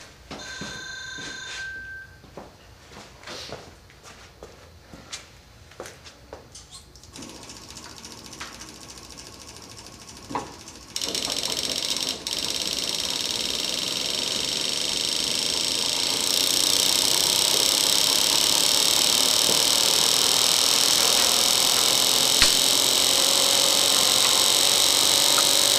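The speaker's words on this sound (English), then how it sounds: "Okay, I just have a straight pulse motor." Homemade pulse motor running and spinning up, starting as faint irregular clicks and ticks, then becoming a loud, steady, rising electric whine and buzz that holds to the end. Nobody talks.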